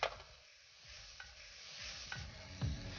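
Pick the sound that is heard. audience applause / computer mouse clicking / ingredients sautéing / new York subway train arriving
ingredients sautéing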